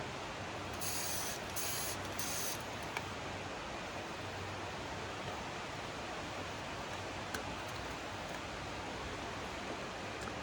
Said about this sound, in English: Let me grab a little WD-40. And actually hit that little swivel right there.